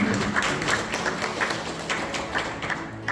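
Audience applause at a thank-you award ceremony in Incheon, a continuous patter of many clapping hands at moderate volume with occasional louder thumps, no voices over it.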